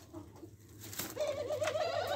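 Two doves coo softly nearby, a few low repeated coos rising into a steadier cooing phrase toward the end, quiet and alone without talk.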